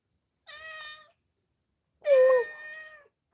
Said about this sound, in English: This is a cat of my mom. It's the only cat that is living here.